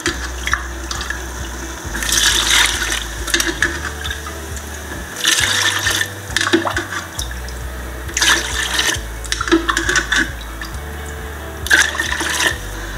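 Water poured into a pot of rice being cooked with ghee and coconut milk for white biryani, a steady running stream with gurgling bursts that continues close by for the whole stretch, with no talking.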